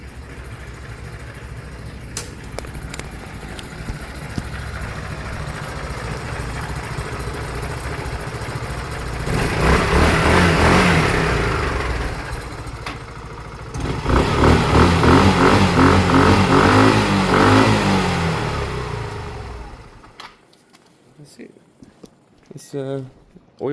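Honda CD200 motorcycle with a new fuel tank being started and left running, a close rumbling idle that rises in two louder revving stretches before cutting off, with people talking over it.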